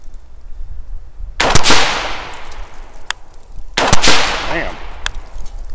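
Two loud, sharp rifle shots fired with MagTech ammunition through a Ballistic Advantage premium fluted barrel, spaced about two seconds apart, each followed by a ringing decay and a brief clank between them.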